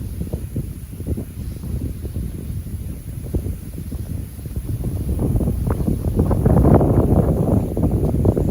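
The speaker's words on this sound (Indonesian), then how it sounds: "anginnya masih kencang ya" Strong wind buffets the microphone outdoors at an air-rifle target range, a continuous rough roar that swells louder toward the end, with no talking.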